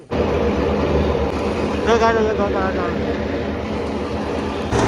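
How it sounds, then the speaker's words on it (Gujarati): On a farm during wheat threshing, a tractor beside a thresher roars into a loud, steady mechanical drone that starts abruptly and carries on throughout, with voices talking over it. "ટ્રેક્ટર ચાલુ થાય છે"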